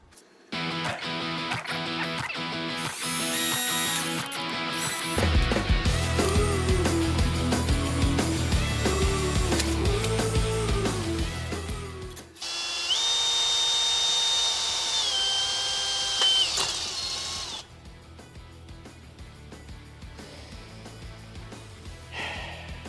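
A power drill bores through a U-joint for a custom steering shaft on a twin-turbo OBS truck, whining loudly in long sustained bursts with changes in pitch and short pauses between runs.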